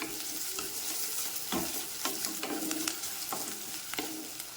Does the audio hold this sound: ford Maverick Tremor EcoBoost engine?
no